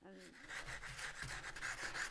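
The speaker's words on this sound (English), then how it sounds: "I go in with sandpaper." Rapid, rhythmic scratching strokes of 60 grit sandpaper smooth a sculpture, faint and close, in a quick back-and-forth rasping pattern.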